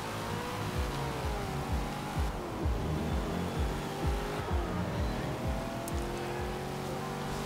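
A powerful rear-wheel-drive muscle car drives on a wet road in Forza Horizon 2, its engine revving up and down through repeated gear changes with a loud, continuous roar and no talking.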